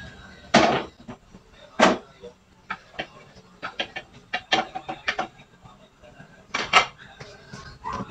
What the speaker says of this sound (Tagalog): ilagay ko na po itong kamyas